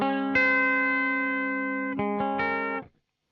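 An electric guitar runs through a NUX Duotime delay pedal set to a normal sound, ringing out one sustained chord, then two quick restrikes that decay into silence.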